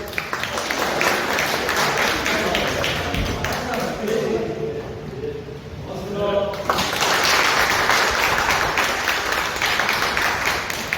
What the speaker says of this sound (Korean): 큰 박수 보내주는 거 이런 걸 합시다